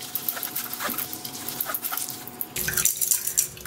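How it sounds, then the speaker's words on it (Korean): Water poured into a bowl of strained mung bean mixture for porridge, trickling and splashing close by in a steady run with brief drips and a louder gush near the end. "저는 물을 500ml만 더 추가할게요."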